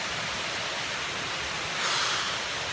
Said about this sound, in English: We got this amazing waterfall right beside cascade going right behind us